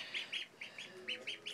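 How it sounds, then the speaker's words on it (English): Pet ducks at bath time give a quick run of soft, high quacking peeps, about eight short calls in a loose rhythm, quiet and fairly close. "See, swimming duckies."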